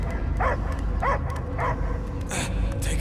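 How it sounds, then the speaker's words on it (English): A dog in the Guardians of the Galaxy video game lets out a few yips and barks, separated by short gaps, over a rumbling game soundscape, with some voices speaking nearby. "I hear only barking."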